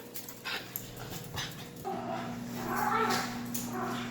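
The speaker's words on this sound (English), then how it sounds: "Y'all have to ignore the dogs in the background" Dogs whimpering and yipping in a home kitchen during cooking, faint and somewhat distant, with a steady hum underneath and no clear speech.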